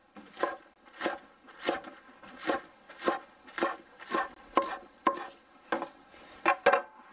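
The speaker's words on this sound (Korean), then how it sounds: "쪽파 이렇게 어슷어슷 썰고요" A knife slices green onions diagonally on a cutting board, about a dozen crisp, evenly spaced strokes close by with no talking.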